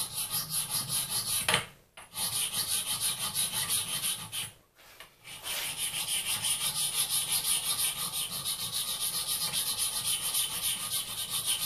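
Hand scraper working across a metal surface previously flattened with 60-grit sandpaper, a steady continuous rasping scrape broken by two brief pauses, close and loud, with no talking.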